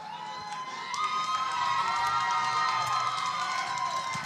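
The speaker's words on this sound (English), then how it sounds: "You hear the crowd cheer for Western." Fans at a college baseball tournament game cheer for Western, a crowd roar that swells after a moment into sustained shouting and whooping, with high cries rising over the noise.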